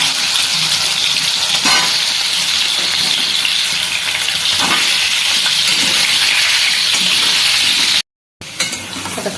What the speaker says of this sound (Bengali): আলুগুলো লাল লাল করে ভেজে নিলাম